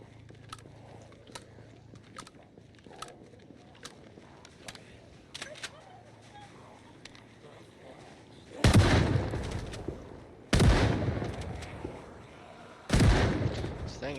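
Shotgun blasts in a Harvest multiplayer survival game, three loud, separated booming shots after a quieter stretch, each with a short ringing tail, with a voice talking lightly beforehand.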